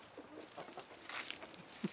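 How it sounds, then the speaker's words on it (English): Free-ranging hens on a family farm clucking softly in short, scattered calls, faint and slightly distant, with one sharper cluck near the end. "Why are all of these chickens out?"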